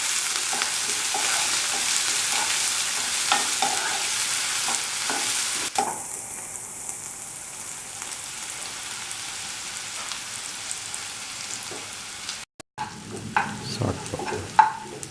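Shallots, garlic and salt sizzle and fry in a pan for a ginger stew, a steady close crackle with occasional stirring scrapes and clinks, no voices.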